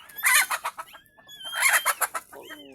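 Chickens clucking close by in two busy bursts of rapid, rhythmic clucks separated by a brief lull, with no voices over them.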